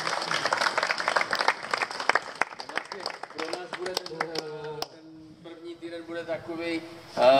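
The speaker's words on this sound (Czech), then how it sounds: "Děkujeme, potlesk." An audience claps for a few seconds in a burst of scattered applause that thins out quickly. Speech and tonal sounds then take over, with the clapping gone.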